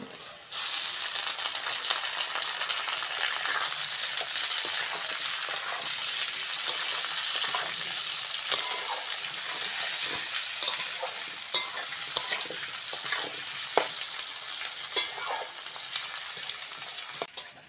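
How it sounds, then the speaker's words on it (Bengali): Potatoes and onions fry in hot oil in a pan, giving a loud, continuous sizzle for a long stretch, dotted with frequent clicks and scrapes from stirring. "পেঁয়াজের সঙ্গে আলুটা ভালো করে ভেজে নিয়েছি"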